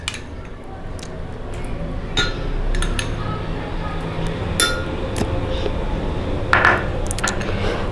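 Spoon clinking against a bowl in scattered bright taps while two spoons of yogurt go into a strawberry smoothie mix, close by over a low background murmur.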